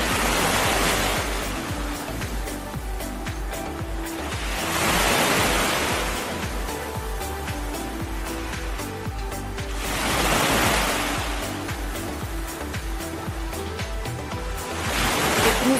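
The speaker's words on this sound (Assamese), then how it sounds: "এইটো এটা সৰু জলপ্ৰপাত, কি সুন্দৰভাৱে পানীখিনি পৰি আছে" A small waterfall pours steadily, a dense broadband rush of falling water that swells louder every few seconds, with no voices.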